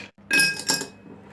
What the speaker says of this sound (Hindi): अब हम इसमें कुछ आइस क्यूब डाल लेते हैं।